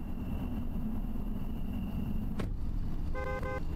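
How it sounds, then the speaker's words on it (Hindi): A car approaches at night on a forest road in the horror game Fears to Fathom, with a steady loud engine rumble and road noise throughout, a sharp click midway and a short tonal horn-like beep near the end. "I saw a car nearing."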